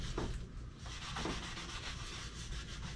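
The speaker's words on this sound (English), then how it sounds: "what I like to use is a little bit of steel wool or a really fine grained sandpaper, and just give that a little" Steel wool or fine sandpaper rubbed against a casement window frame, giving steady close scraping strokes that repeat in a fast back-and-forth rhythm with no voices.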